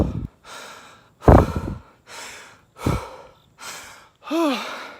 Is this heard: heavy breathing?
yes